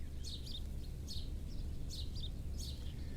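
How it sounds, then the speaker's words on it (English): Birds singing outdoors in Hawaii at sunrise, four bright chirping phrases repeating at a steady pace over a soft background hiss, fairly distant and gentle. "the sounds coming through this broadcast of the birds here in Hawaii"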